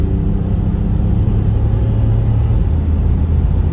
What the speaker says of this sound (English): So let me just roll on the throttle here. There it goes.